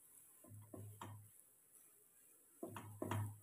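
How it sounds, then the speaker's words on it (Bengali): Potato curry for dosa being stirred in a pan with lemon juice: two short bursts of scraping and clinking utensil on metal, close and quiet, separated by a pause. "এবারে ভালোভাবে লেবুর রসটা মিশিয়ে নেব।"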